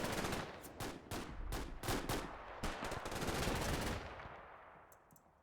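Machine gun fire in the Combat Mission: Fortress Italy war game, loud rapid bursts of repeated shots with short gaps, growing denser and then trailing off toward the end, with no talking.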